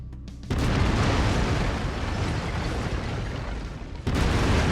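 Sustained heavy booming blasts from an autocannon firing in the MechWarrior 5 video game, a loud continuous burst of low rumbling shots that cuts off abruptly and then resumes.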